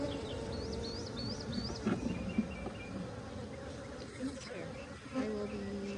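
Honeybees bearding and busy at an open hive hum in a dense, steady buzz, close and continuous, with individual bees whining past now and then.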